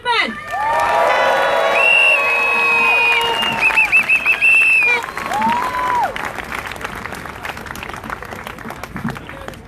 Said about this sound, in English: please give a huge welcome to John Shipton